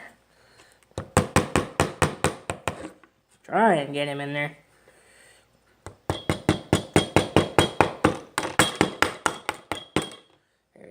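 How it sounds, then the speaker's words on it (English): A hammer taps metal during restoration of a Henry Disston & Sons carpenter's square, two runs of sharp, evenly spaced ringing strikes, close and loud, broken by a brief spoken remark. "Let's get my keen hammer."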